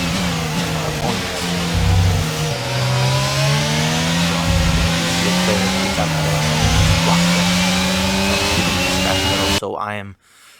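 Formula 1 car engine in the F1 22 video game, racing at Miami, a loud steady high-pitched whine shifting pitch through gear changes throughout, cutting off abruptly near the end.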